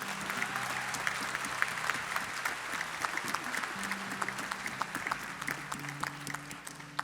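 Concert audience at a Himalayan music festival in an auditorium applauds a visiting musician from Assam: sustained, even clapping with crisp individual claps audible, steady throughout and without speech.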